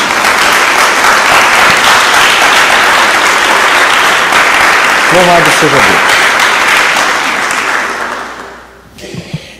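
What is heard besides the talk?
congregation applauding for Jesus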